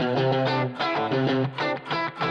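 Overdriven electric guitar through a Fender clean tone with boost pedals and reverb, playing a short chordal phrase, loud and gritty with sustained distorted notes and brief gaps between strums.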